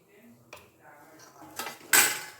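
A utensil clinks and scrapes against a bowl while urad dal vada batter with shredded cabbage is mixed, giving a few soft taps and then a louder clatter near the end. The sounds are close by and fairly quiet.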